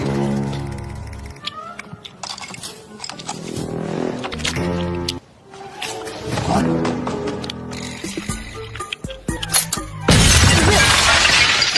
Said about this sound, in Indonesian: Mendengar suara ledakan